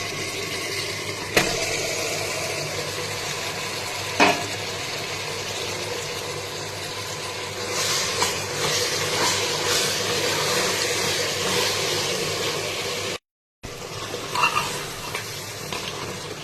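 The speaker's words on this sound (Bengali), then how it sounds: "পেঁয়াজটা নরম হয়ে গেছে, এবার আমি ম্যারিনেট করা মটনটা এর মধ্যে ঢেলে দিলাম।" Marinated mutton sizzling in a pan of softened onions, a continuous loud frying hiss with occasional sharp knocks of stirring.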